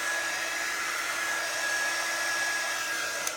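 A hair dryer is used at close range to dry a chalk-paste stencil design on a sign, giving a steady, loud airy whoosh with a faint high motor whine that runs unbroken throughout.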